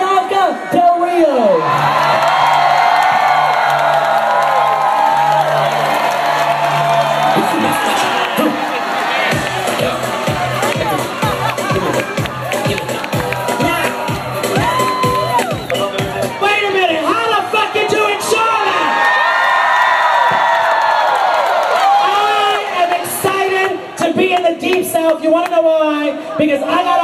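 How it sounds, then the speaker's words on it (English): A packed pride-event crowd cheers for drag queen Bianca Del Rio at Charlotte Pride, loud sustained whoops, yells and applause throughout, with an amplified voice cutting in at times. "give the loudest, all the way in the back, thunderous round of applause for the current, the reigning queen, Bianca Del Rio"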